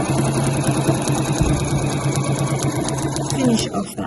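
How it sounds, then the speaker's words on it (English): A sewing machine runs steadily, stitching the bound edge of a fabric placemat in a continuous, close whirring hum with a brief pause near the end. "finish off that line of stitching, meeting back up to where we were before"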